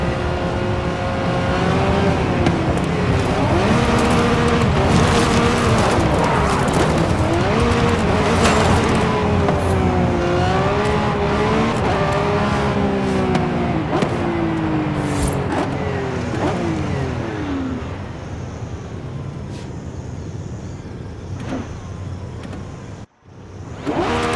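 A Lamborghini Revuelto engine in Forza Horizon 5 revs hard and steadily, its pitch rising and falling in sweeping waves before it tapers off, then cuts out briefly and returns at the very end.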